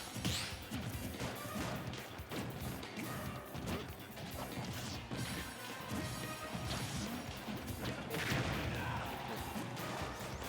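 Heavy impact crash from an up smash attack in Super Smash Bros. Ultimate during a tournament match, set within a dense, busy mix of game effects and crowd noise that continues throughout.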